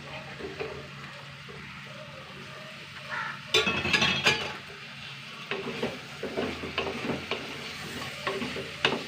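Pieces of brinjal sizzle in a hot pan, with bursts of stirring and occasional metal clinks from a spoon against the pan.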